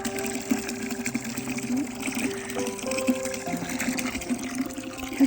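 Water runs from a tap or hose into a bucket for livestock on a winter farm, a steady gushing, filling sound with rising tonal gurgle that continues throughout at moderate loudness.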